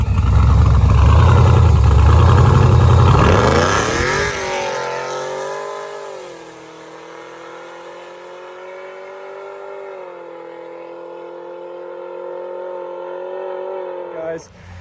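A Chevrolet Camaro with lowered tire pressure pulls away hard on a test run, its engine loud and roaring through the opening seconds, then settling into a steadier, quieter drone as it keeps driving.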